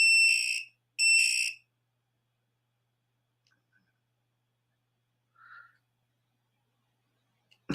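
An electronic device at a jewelry-sorting table gives two short, bright beeps about a second apart, followed by near silence broken only by faint clicks and a brief soft blip.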